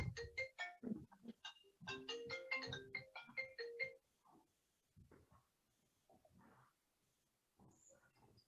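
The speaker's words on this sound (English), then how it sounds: "I'm gonna just go silence my phone." A mobile phone rings with a melodic ringtone during a presentation. The bright repeated tones play for about four seconds, then give way to quieter scattered noises.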